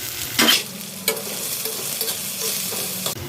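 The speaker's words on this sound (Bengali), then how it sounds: "পেঁয়াজ আমার ভালো করে ভাজা হয়ে গেছে।" Chopped onion frying in hot oil with minced garlic for Bengali begun bhorta, a close sizzle broken by several sharp stirring scrapes and clatters.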